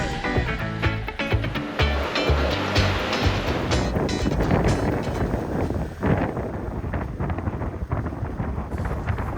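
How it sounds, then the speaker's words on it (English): Atlantic swell rolling into the coast of Boa Vista, heard from a boat on approach: a continuous loud wash of surf and rushing water mixed with heavy wind buffeting the microphone, with no talk. "Phenomenal waves coming into Boa Vista here on our approach."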